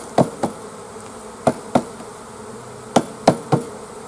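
Honey frames are tapped to shake bees off, giving three pairs of sharp knocks spaced about a second apart over a faint background buzz, with no talking.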